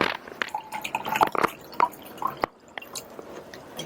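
Cold water pours into a glass holding strawberry shrub, a close, trickling splash with small drips and glugs that wavers and breaks off briefly before resuming.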